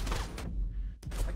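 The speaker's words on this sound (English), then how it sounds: "just gunshots in the background" Short bursts of gunfire from the game GTA 5 crackle in the background, two quick volleys separated by a brief lull.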